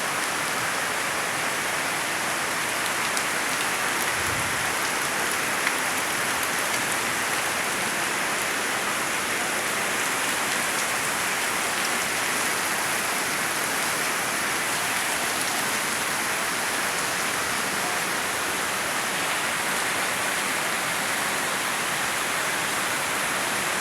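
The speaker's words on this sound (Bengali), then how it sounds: "বৃষ্টি রে বৃষ্টি আয় না জোরে" Steady rain falls on a mosque in an unbroken, dense hiss that stays even and fairly loud throughout, with no voices.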